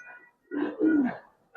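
Giribaz pigeon coos in two or three throaty, rolling calls with short gaps between them, close and fairly clear against quiet surroundings.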